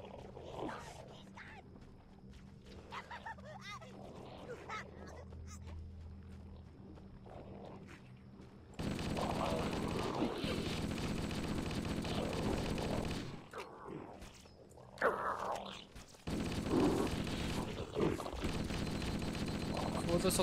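Machine gun fire in Halo: Combat Evolved, arriving in two long, loud bursts of rapid automatic shots, separated by a quieter stretch where someone talks over faint game sounds.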